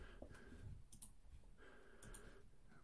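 Faint, close clicking of computer keys as numbers are typed in for a math calculation, arriving in short irregular bursts with brief pauses.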